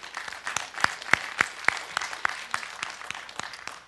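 A lecture audience gives a scattered, thinning round of clapping, with a few sharp individual claps standing out over softer patter.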